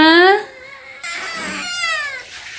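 A cat meows loudly and repeatedly in a home kitchen, its rising, drawn-out cries coming close and clear at the start and again through the middle and end, with a short gap in between.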